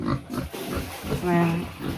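A domestic pig being bathed on a farm grunts once in a short, close oink, surrounded by people talking and splashing background noise.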